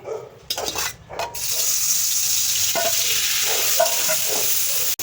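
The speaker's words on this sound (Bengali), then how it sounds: "চিংড়ি মাছ নুন হলুদ দিয়া একটু ভেজে নিচ্ছি, হালকা করে চিংড়ি মাছটা ভেজে নেব।" Prawns fry in oil with salt and turmeric, giving a loud, continuous sizzle close up, with a few clinks and stirring knocks near the start before the hiss settles in.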